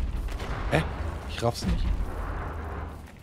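Gunfire in the video game Wolfenstein The New Order: heavy, booming low shots rumble under someone speaking German, with no crisp separate reports standing out.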